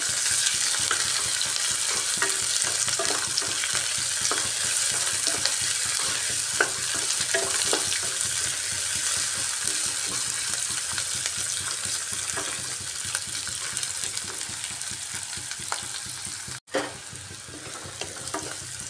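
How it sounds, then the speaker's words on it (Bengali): Onion frying in a pan for a chicken and chickpea ghugni: a continuous near sizzle broken by spatula stirring and scraping, then a sharp click near the end, with no voices. "পেঁয়াজটাকে একটু ভাজা ভাজা করে নিচ্ছি।"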